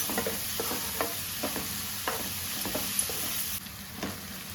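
Onion and tomato frying in a pan with turmeric for onion chicken curry: a close, steady sizzle broken by rhythmic spatula stirs and scrapes, dropping slightly quieter toward the end, no voices.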